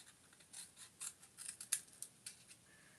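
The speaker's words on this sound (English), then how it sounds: "okay, so we're going to cut down this way. And I'm going to cut across this way" Scissors snipping through paper to cut out a craft tag, a run of quiet, close crisp snips and rubs in uneven rhythm over several seconds.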